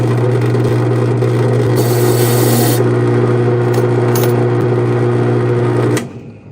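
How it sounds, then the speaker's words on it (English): A key cutting machine's spinning wire wheel brushes metal debris off a freshly cut key, a steady loud motor hum with brief harsher scraping bursts, then the machine cuts off and spins down at the end. "The wire wheel cleans off the debris, and you're good to go."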